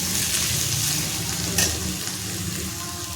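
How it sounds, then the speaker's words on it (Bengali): Pointed gourd, teasel gourd and other vegetables sizzle steadily in a pan while being gently stirred, with one sharper scrape partway through. "হালকা করে নেড়ে নিচ্ছি যাতে নিচে না লেগে যায়"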